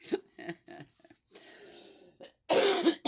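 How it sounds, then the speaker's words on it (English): A single close cough followed by throat-clearing and breathy sounds, ending in a harsher burst of coughing. "Yes, that's just my regular cough."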